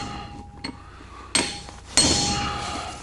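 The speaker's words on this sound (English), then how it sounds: "So now we'll just give it a couple whacks" A hammer strikes a seal into a utility semi-trailer wheel hub, several sharp metallic whacks: a light tap, then two louder close hits ringing briefly, with quiet between.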